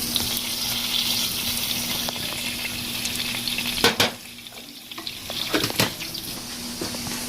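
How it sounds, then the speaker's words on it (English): Food sautéing in coconut oil for jollof spaghetti makes a steady, close frying sizzle with stirring scrapes, a sharp clack near the middle and a brief quieter lull before the sizzle resumes. "I'm going to add a little bit more of my coconut oil."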